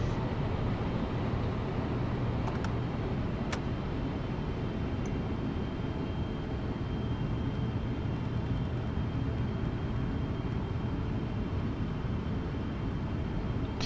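PMDG 777F freighter on approach with gear down in the Prepar3D flight simulator, a steady low engine and airflow drone with a few faint clicks, no talk.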